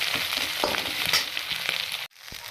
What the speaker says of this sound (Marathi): आता आपण खिचडी मस्तपैकी तीन ते चार मिनटं परतून घेणार आहोत